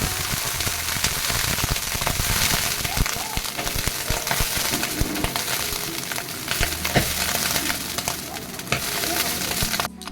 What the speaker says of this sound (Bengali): বেশি তেতে যাওয়ার কারণেই ওরকম বোম ব্লাস্টের মতো আওয়াজ হচ্ছিলো।